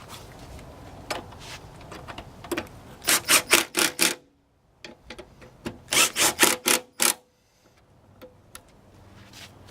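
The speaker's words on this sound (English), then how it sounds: "Let's just hammer them home." A burst of sharp, rapid metallic strikes as bolts are hammered into a hinge, pauses, then another quick series of hammer blows, close and loud against a quiet workshop background.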